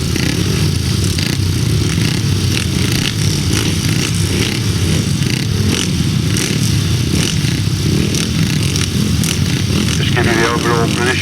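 350cc solo motorcycles race a grasstrack heat at the Bewdley Bonanza, engines droning loud and continuous with a broad roar that swells and fades as the bikes pass, a crowd faintly audible beneath.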